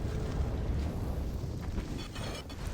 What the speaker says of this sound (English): Not only does it do a little explosion of flames